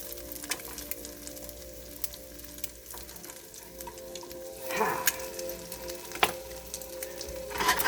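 Small eggs fry in olive oil in a pan, a steady close sizzle with occasional louder crackles and stirring scrapes throughout.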